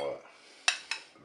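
Tuna and shallot salad being mixed in a bowl, two sharp clinks of a utensil against the bowl after a short stretch of faint voice, close and fairly loud.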